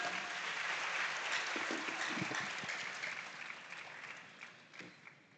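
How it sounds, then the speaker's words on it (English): Audience applauding at the 2025 KIC School Farm Awards grand final, a dense steady clapping that holds strong and then gradually thins and fades toward the end, with no voices over it. "Please, another round of applause for them"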